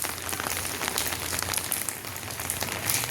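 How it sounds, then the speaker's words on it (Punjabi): Steady rain falls and patters on surfaces, a constant hiss of drops with no voices. "ਆਨੰਦ ਦੇਖੋ ਖੂਬਸੂਰਤ ਨਜ਼ਾਰਾ ਬਾਰਿਸ਼"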